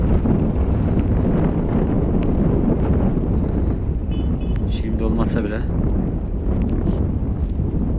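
Steady wind buffets the microphone with a constant low roar in a rural village at harvest time during rain, while a person talks over it.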